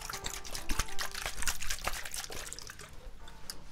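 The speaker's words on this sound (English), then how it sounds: "just to dampen your hair, we'll just use regular water" Plain water is sprayed and dripped to dampen hair during a close-up ASMR salon roleplay, giving soft, rapid spritzing and wet patters with light trickles, intimate and continuous without any talking.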